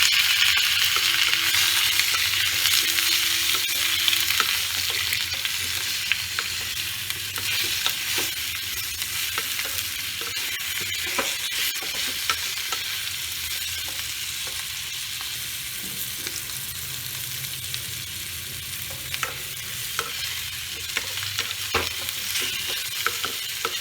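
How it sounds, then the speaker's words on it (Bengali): Potatoes and pumpkin sizzle and fry in a pan with five-spice seeds and bay leaves, a steady close hiss with frequent scraping stirs and small clatters throughout, no voices. "এবার আমি আলু আর কুমড়োটা ছেড়ে দেবো।"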